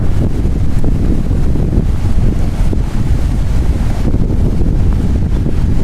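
Strong wind blows across a microphone at Jeddah sea beach on a cold winter day, a loud continuous rumbling buffet with a faint wash of surf beneath it and no talking.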